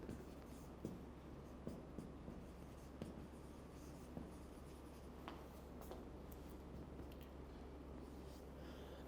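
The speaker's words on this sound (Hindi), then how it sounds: "ये मैं लिख देता हूँ सेट ऑफ इंटीजर्स" Faint scratchy strokes of writing on a board during a maths lesson come in short intermittent scrapes over a low steady room hum, quiet and close, with no talking.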